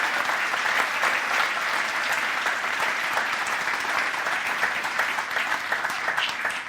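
A large audience applauds for the mayor at a township event in the Langley Event Center, steady dense clapping filling the hall at a constant level throughout, with no voices over it.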